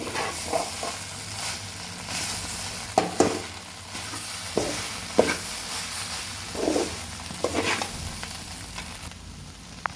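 Torn parotta pieces stir-fried in a pan for homemade kothu parotta, a continuous close sizzle punctuated by repeated scraping and clacking strokes of a spatula at an uneven rhythm.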